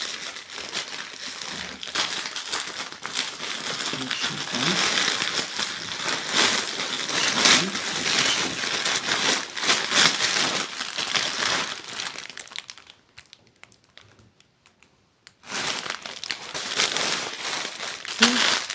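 Plastic packaging around a Trendyol pajama set is opened close by, loud crinkling and crumpling running almost continuously, broken by a short pause before resuming.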